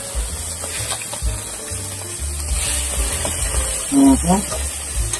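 Food frying in a pan, a steady loud sizzle with occasional stirring clinks and a low hum, while a person talks intermittently over it.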